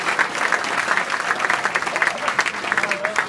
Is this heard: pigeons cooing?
no